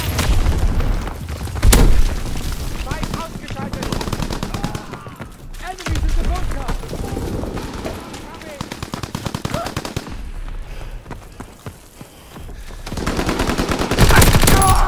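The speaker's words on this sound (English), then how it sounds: "Sending mortar rounds, zone and sweep." Battle din from a Call of Duty WWII Team Deathmatch on Pointe du Hoc, with mortar rounds exploding amid sustained machine-gun fire and booming impacts, loud and dense throughout the clip.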